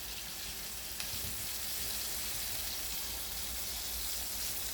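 Homemade vegan onion rings fry in hot oil with a dense, steady sizzle, close and constant from start to finish, with no talking over it.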